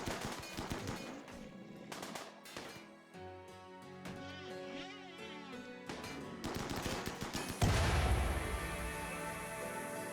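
Colonists laying down supporting gunfire in RimWorld, bursts of rapid shots and rattling volleys over busy game sounds, ending in a louder heavy blast.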